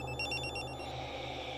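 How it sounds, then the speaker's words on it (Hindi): A telephone rings indoors in a short, rapid trilling burst that cuts off after under a second, leaving a low steady background hum. "अरे किसका फोन है?"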